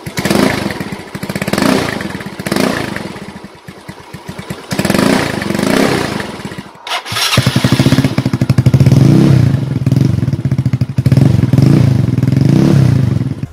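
A motorcycle fitted with a Sun Racing Cobra aftermarket exhaust pipe runs loud and close, its exhaust barking through a series of rev bursts with brief dips and one sharp pause.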